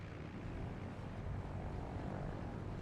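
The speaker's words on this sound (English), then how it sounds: "A little bit of a wacky takeoff from Victor Vasser." A propeller airplane taking off in a short-takeoff competition in Microsoft Flight Simulator, a steady, dense engine drone at full power with no break or voices.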